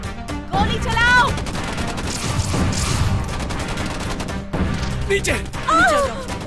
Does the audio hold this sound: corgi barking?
no